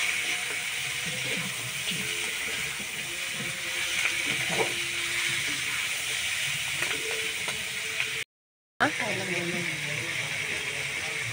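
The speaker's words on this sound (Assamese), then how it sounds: "এইখিনি ধুনীয়াকৈ লৰাই লৰাই ভাজি ল'ব" Chicken meat sizzles steadily in a hot pan, a constant hiss with occasional scraping of a spatula, while a voice talks over it.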